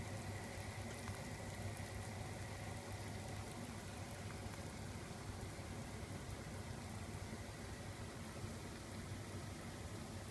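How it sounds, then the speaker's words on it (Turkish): Green fig jam boiling in a pot heard up close, a faint, steady bubbling and popping that carries on evenly throughout with no voices. "Evet, kaynama derecesi biraz daha hızlandı."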